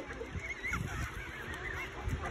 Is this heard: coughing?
no